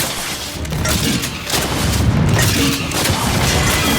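Dense gunfire in Gears 5 Horde mode, a continuous barrage of loud booming shots and impacts that stays thick and steady throughout with no clear pauses.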